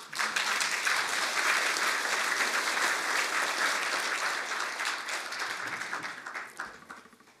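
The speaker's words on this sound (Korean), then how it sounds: "큰 박수로 맞아주시죠" An audience at a Kwanhun Club invited debate claps to welcome Park Geun-hye, Saenuri Party emergency committee chair, a loud, dense, steady applause that tapers off over the last couple of seconds.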